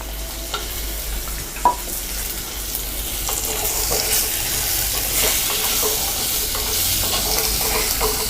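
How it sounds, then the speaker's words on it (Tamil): Steady sizzling of pumpkin, drumstick and other vegetables frying in a pan for sambar, with occasional stirring scrapes and clinks over a continuous hiss; no voices. "இந்த காய் வந்து நல்லா நம்ம வதக்கிக்கணும்."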